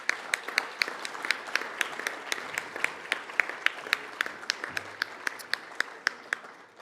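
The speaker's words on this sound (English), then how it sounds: "Please give a round of applause for Mervat and Lisa." Applause at an education awards ceremony, a steady patter of many hands at moderate distance, with a few sharp, distinct claps standing out above the wash for several seconds.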